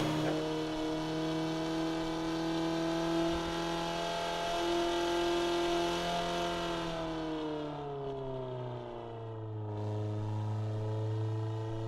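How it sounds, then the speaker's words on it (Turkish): A car engine in the Assetto Corsa racing game revs steadily at full throttle, its tone holding high and then dropping as the driver lifts off. The engine sounds loud and close and runs alone without talk. "Can alıcı motoru var arabanın."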